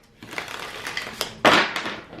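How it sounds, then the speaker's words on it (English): A deck of career oracle cards is shuffled by hand close up, giving a quick run of papery riffling and flicking that ends in a louder, denser burst of card noise. "Let's give it a good shuffle for y'all."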